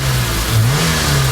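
A homemade Cybertruck replica car built in Russia roars loudly and continuously as it drives, its engine note rising and dipping slightly in a brief rev, close and harsh with no pauses.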